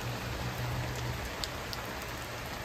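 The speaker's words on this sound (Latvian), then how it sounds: "Ārā lietus?" Steady rain falls outside, a dense even hiss with scattered drips, no voices.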